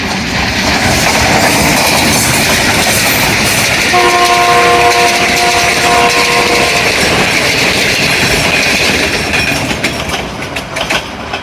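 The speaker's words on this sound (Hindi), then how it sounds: "सामने से 11 अब हज़ारा एक्सप्रेस भी आ गई।" Hazara Express train arriving at Nur Junction railway station, a loud steady rumble of passing cars with a sustained horn blast sounding partway through, no voices.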